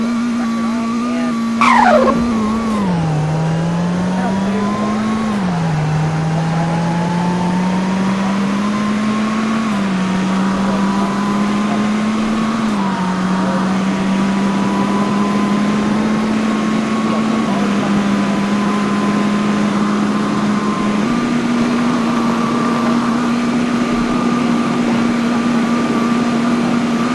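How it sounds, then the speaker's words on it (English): Car engine in the Roblox Greenville driving game, revving hard and holding high with pitch steps as it climbs and shifts, a loud, steady synthetic drone throughout. "rev it all the way out"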